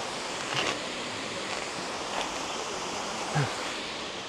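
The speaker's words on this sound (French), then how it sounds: "Et nous y voilà, la fameuse cascade." Steady rushing water roars continuously like a waterfall, a broad even hiss with no talking.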